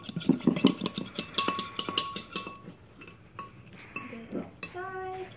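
A spoon scrapes and knocks around the sides of a mixing bowl during a kids' potion-making activity, with repeated clinks and scrapes and a few ringing tones near the end, close and fairly loud.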